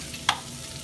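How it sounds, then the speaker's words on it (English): Oregano, lemon peel and pepper hit a hot pan, giving a soft continuous sizzle with one brief brighter hiss or stir scrape near the start. "You hear it sizzle when it hits the pan because the pan's hot."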